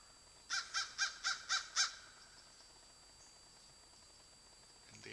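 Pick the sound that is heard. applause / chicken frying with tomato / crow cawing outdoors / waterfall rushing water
crow cawing outdoors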